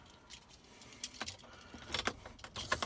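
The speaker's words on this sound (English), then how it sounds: "dig my keys out here" Keys jangle in short bursts as they are dug out inside a 2017 L5P Duramax truck, the metallic clinks growing busier and louder toward the end, with no talk.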